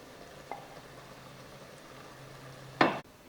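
Dal gently frying in a pan with a faint low simmer and a soft tap, then a brief loud hiss as two beaten eggs are poured in before it fades.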